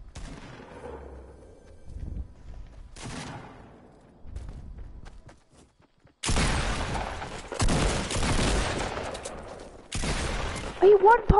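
Pump shotgun blasts in a Fortnite match come in sharp bursts: a couple of isolated shots early on, then loud, dense volleys of gunfire toward the end, with excited voices talking between them.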